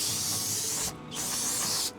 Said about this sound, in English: spray everything down with brake cleaner real good